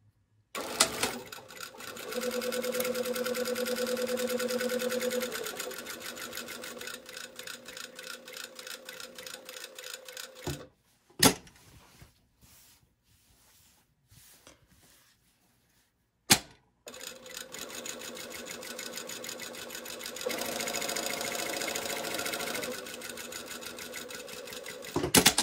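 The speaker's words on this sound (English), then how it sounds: "we're just gonna sew the small little stitch length right along this chalk line that I've drawn" A sewing machine runs a short, small stitch length along a chalk-marked line on a garment sleeve, a steady close whirring with rapid ticking. It pauses for a quiet stretch in the middle, then starts again.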